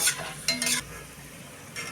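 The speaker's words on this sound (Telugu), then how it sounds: "ఆయిల్ వేడెక్కిన తర్వాత కొన్ని పల్లీలు ఈ పల్లీలన్నీ కొంచెం వేగాలి" Peanuts fry in hot oil while a spoon stirs them, giving a soft steady sizzle broken by a few brief scraping stirs against the pan, with no talking.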